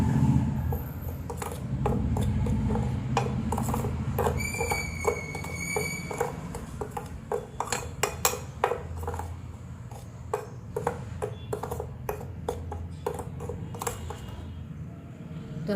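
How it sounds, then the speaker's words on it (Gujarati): Turmeric and salt being stirred together for Gujarati lemon pickle, a run of sharp metallic clinks and scrapes of a spoon against a bowl, close and steady, with a faint low hum beneath. "તો હળદર અને મીઠું બંને આપણે મિક્સ કરી લેવાનું છે એકદમ સારી રીતે।"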